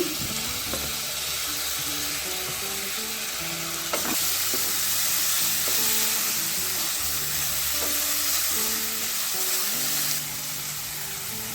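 Chopped tomatoes are fried with onions in a pan for a Mangalorean egg fry, with a loud, continuous sizzle and occasional utensil scrapes and knocks close by.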